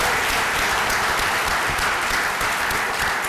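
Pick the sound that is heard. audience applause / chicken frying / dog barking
audience applause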